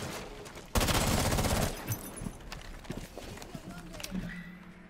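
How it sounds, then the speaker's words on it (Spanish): A rapid burst of automatic gunfire in Rainbow Six Siege rattles for about a second, followed by scattered thuds and quieter game sounds. "Está pegando tiros por tirar, tú"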